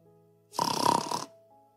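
A voice imitates a single snore, one loud, rasping, snorting breath lasting about a second at close range, with quiet surroundings before and after.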